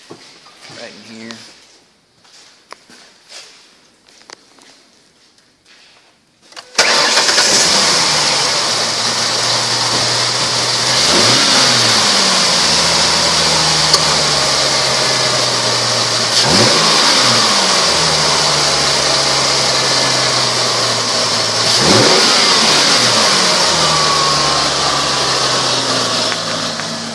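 A 2006 Ford Mustang engine starts up after a few quiet seconds, then runs steadily with a loud mid-range idle; its tone dips and shifts briefly three times as the car is put into gear.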